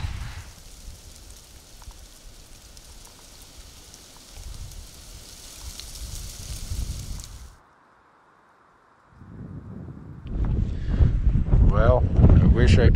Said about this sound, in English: We're sitting up on this really windy ridge in the sun